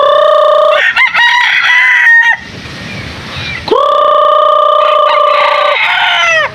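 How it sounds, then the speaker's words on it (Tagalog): Chickens on a farm, a mother hen among her young chicks, crow and cluck loudly and close, with a rooster's long crowing calls dominating before and after a short noisy pause. "Ayan ating mga sisiw."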